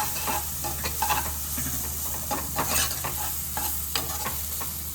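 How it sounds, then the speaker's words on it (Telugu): Raw mango masala curry frying in a pan, with repeated spoon-stirring scrapes over a soft, steady sizzle, heard close with no talking. "దీన్ని ఒక్క రెండు నిమిషాలు వేయించుకున్నాం ఇప్పుడు వేగిందేమో చూద్దాము"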